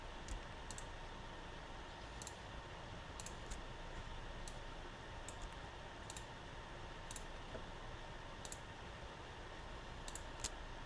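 Sharp, light computer mouse clicks come one at a time and in quick pairs, scattered unevenly over a faint steady hum with no voices.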